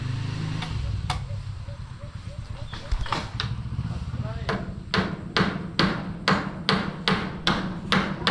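Hammer blows on a rooftop solar panel installation at a farmhouse, about ten sharp strikes with the last several coming in a steady rhythm, all close, under people talking and working nearby.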